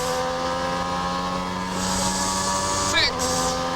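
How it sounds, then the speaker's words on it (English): A V12 racing engine revving hard and pulling up through the gears, a steady high-pitched whine rising in pitch with a brief sharp shift near the end, heard under a voice commentating. "listen to that V12 chiming in"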